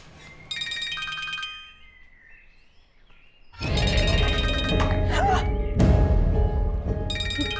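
A mobile phone rings with a bright repeating electronic tone in short bursts, broken by a quieter gap, then clattering, crashing noise and more ringing under a busy indoor scene.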